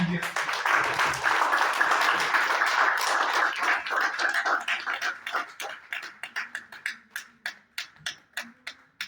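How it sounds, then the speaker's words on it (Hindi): An audience at a union branch meeting breaks into loud applause, dense clapping that gradually thins out into a few scattered, distinct claps toward the end. "एक बार चाहूंगा जोरदार तालियां"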